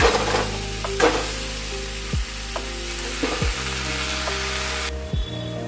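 Potatoes and banana flower sautéed and stirred in a pan, a close, continuous sizzle broken by several scraping stirs of a spoon against the pan.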